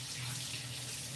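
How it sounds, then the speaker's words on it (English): Water runs from a kitchen tap for handwashing, a steady, close rushing stream with no break over the short stretch. "I will wash my hands"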